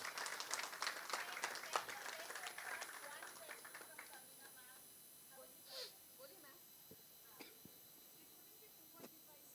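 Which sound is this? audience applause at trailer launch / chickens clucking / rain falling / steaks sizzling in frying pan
audience applause at trailer launch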